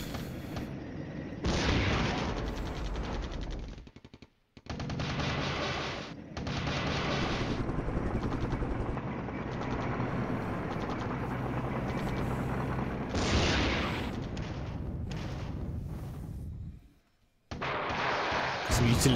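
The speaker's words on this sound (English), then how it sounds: "Cannons." Cannon and gunfire from the Flashpoint Campaigns: Southern Storm wargame set in Germany form dense, loud rumbling booms and rapid bursts, sustained for long stretches with brief silent gaps, while a voice talks over them.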